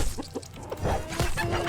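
Chickens in a video game, several short clucks and fowl calls close by, scattered unevenly across a brief moment.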